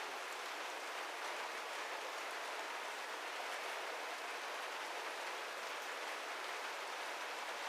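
Steady rain pours down in an unbroken hiss, a dense even patter of drops with no other sounds.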